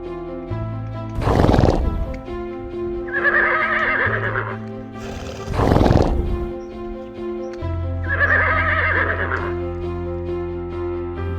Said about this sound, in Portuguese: Os cavalos são animais incríveis de se conhecer.